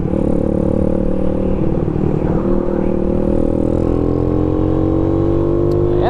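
A Boom Vader 125, a Honda Grom clone motorcycle, is ridden with its small engine droning steadily and loudly close by, the pitch holding level and then climbing slightly, with no talking.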